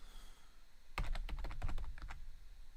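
HTML code is typed on a computer keyboard: after a quiet start, a quick, irregular run of crisp key clicks follows, close and clear, with no talking.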